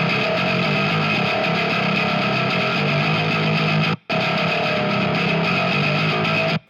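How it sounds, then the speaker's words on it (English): Bass track run through a high gain guitar amp for distortion, a loud, dense, buzzing fuzz played continuously, cutting out briefly before resuming and then stopping abruptly. "I enjoy adding high gain guitar distortion to my bass tracks."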